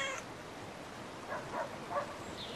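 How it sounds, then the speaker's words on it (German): A cat in the video game Brothers: A Tale of Two Sons gives a few short, faint meows in a quick series, over quiet ambient game background. "Eine Katze."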